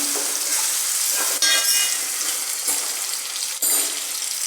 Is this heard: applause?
no